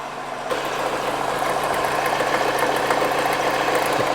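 A Honda CR-V engine with a failing alternator runs steadily at close range, giving a dense, even mechanical drone with a faint knocking texture. It starts abruptly and continues without talk.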